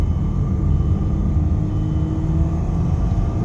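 Cabin rumble of an automatic-transmission car driving in second gear after a manual gear shift, a steady low droning engine and road noise, loud and close throughout.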